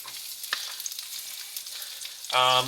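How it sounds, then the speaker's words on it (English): Vegetables hit a hot oiled pan and sizzle close up, a steady frying hiss with a few light clatters, then a louder, fuller burst of sizzling near the end as more food lands in the oil. "I'm gonna use these to grab the vegetables out, and I'm gonna throw them in the pan."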